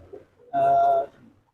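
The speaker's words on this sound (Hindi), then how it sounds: "फेवर मेरे पुराने कबूतर हैं।" One soft, throaty pigeon coo, close by, held for about half a second in otherwise quiet surroundings.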